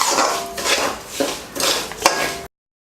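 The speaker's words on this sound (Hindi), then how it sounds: "पंद्रह से 20 मिनट तक इसको मीडियम आंच पर सेकेंगे, ब्राउन होने तक। और बीच बीच में इसको हिलाते रहिए।" Broken wheat roasting in a pan for lapsi is stirred with a metal spoon, giving loud, close scraping and clinking strokes in an uneven rhythm before the sound cuts to silence.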